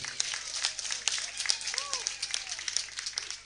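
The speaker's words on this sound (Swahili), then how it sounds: "Mpige tena mama makofi tafadhali." Applause from mourners at a funeral service in honour of the mother, a steady patter of many hands with faint voices mixed in, continuous for a few seconds.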